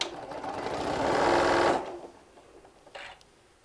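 A sewing machine stitches straight across the bottom seam of a walker bag. The close, rapid motor hum builds, runs steadily, then stops, followed by a faint brief whir.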